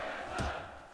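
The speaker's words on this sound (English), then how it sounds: "Man, the cheers in here are deafening. This crowd is loving this." An arena crowd roars and cheers in UFC Undisputed 3, a brief, dense wash of voices with a short swell in the middle.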